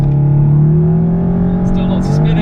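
A Golf R or Cupra 290 hot hatch launches hard with wheelspin, its engine droning loud and close with a steady, slightly rising pitch as the tyres scrabble, and people talk over it.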